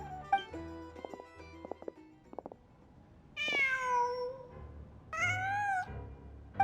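A cat meows twice in the Genshin Impact video game, two drawn-out rising-then-falling calls standing clearly over quiet game ambience and a few soft chimes.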